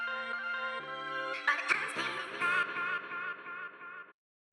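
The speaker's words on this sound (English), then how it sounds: "And there I put some echo at the end with the automatization, so it sounds like this." A processed vocal sample inside an electronic music production, with automated echo added at the end of the phrase; layered, tonal and fairly loud, the repeats thickening toward the close before the sound cuts off abruptly.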